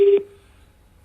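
A telephone tone sounds on a call while waiting for someone to answer: a short, steady pitched beep that cuts off and fades into near silence, with no talk.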